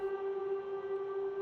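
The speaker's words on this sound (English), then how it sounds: "what is the music we hear outside? It's the sound of war" An air raid siren wails outside during wartime, a steady sustained tone that holds level throughout without rising or falling, fairly loud and continuous with no talk over it.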